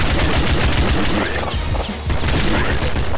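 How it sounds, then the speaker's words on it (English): Dense, continuous rapid-fire gunfire from a triple machine gun in the video game Nuclear Throne, loud and relentless with booming impacts, briefly dipping near the middle before surging again. "So many bullets! Triple machine gun!"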